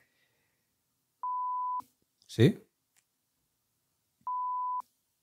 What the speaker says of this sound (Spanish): Aquí pitidos o algo